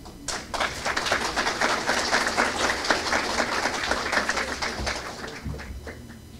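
A roomful of attendees at an electrical engineering technical talk in Lima applauds an engineer, many hands clapping in a steady, dense burst that swells quickly and tapers off near the end.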